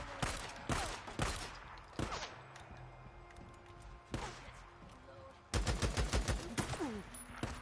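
Rapid pistol and gunfire bursts in the video game Days Gone, a series of sharp cracking shots in quick clusters, loud and close, with a player's voice talking over parts of it.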